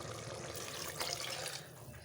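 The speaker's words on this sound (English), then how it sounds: "And I'm adding 2 cups of water." Two cups of water pour into a pot of boiled black chana curry, a brief, soft, steady splashing stream heard faintly and close by.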